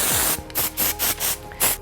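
AIIR Professional texture hair spray misted onto a twisted chignon in five quick, close bursts, each a short loud hiss with brief gaps between, and no voices.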